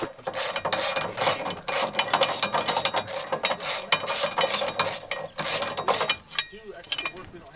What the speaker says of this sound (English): I ended up just breaking the filter loose again and then tightening it up like another quarter turn.